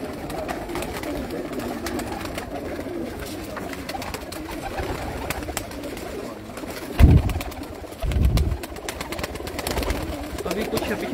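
Over a hundred pigeons coo softly in the background on a rooftop loft, with a couple of louder low thumps or flutters partway through and faint ambient noise throughout.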